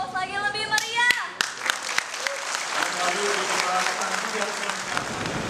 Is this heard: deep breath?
no